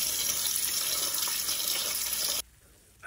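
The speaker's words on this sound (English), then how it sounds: "I'm washing it carefully," Sweet rice being washed and rinsed under running tap water, a steady loud gush filling most of the clip before cutting off abruptly near the end.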